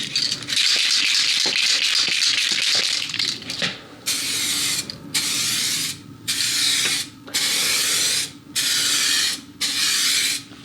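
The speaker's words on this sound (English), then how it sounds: "spray the first layer of clear coat, and again, this is just a light coat of the clear coat" Hissing aerosol clear coat spray in repeated bursts of about a second each, separated by brief pauses, with a rattling can shake at the start, applied as a light coat on an Audi Q7 headlight.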